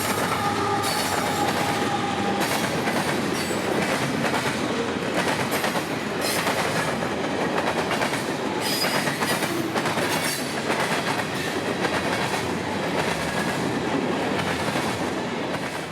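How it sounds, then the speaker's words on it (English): Hefty freight train M453 pulled by two GE CM44 rebuilt locomotives rolling past in South Florida, loud continuous rumble and rhythmic clickety-clack of wagons with occasional wheel squeal, no voices. "M45319 would arrive from the north with 2 engines and a hefty train"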